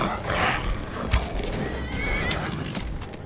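A horse whinnies in the video game Skyrim, a clear neigh near the start followed by clip-clop hoofbeats and a short thud, set against a soft game ambience with no speech.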